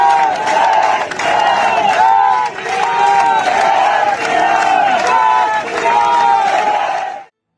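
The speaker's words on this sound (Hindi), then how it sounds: "तालियां बजा रहे हैं और फिर जय श्री राम के नारे लगा रहे हैं" A protesting crowd sitting outside a police station chants Jai Shri Ram slogans in loud, rhythmic, repeated bursts, close and continuous, with hand claps mixed into the massed voices before the sound cuts off.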